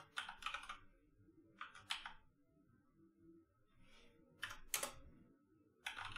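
Fast bursts of keystrokes on a computer keyboard come in short clusters separated by brief pauses, crisp and close in a quiet room.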